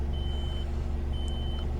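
A truck engine idles steadily near an industrial gate in Nagpur, a constant low rumble with two long high-pitched electronic beeps sounding over it.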